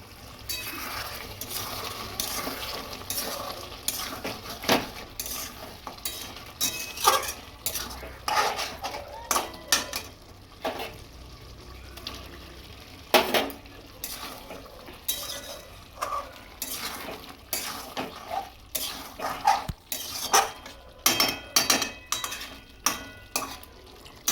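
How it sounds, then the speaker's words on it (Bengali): Potatoes added to chicken curry cooking in a pot, with repeated clinks and scrapes of a metal spoon against the pot over a soft sizzle, close and steady throughout. "এবার আমি আলুটা দিয়ে দেবো।"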